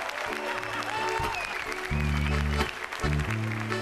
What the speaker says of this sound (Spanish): Fortísimo aplauso.